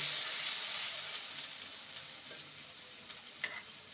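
Chopped tomato stirred with ginger and green chilli paste in a pan, a steady soft sizzle and hiss with faint scraping strokes and a brief clink near the end.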